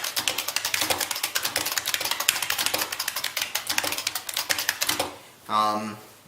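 Rapid, loud clacking of keystrokes on an IBM Model F buckling-spring keyboard, a dense run of typing for about five seconds, then a short burst of a voice speaking.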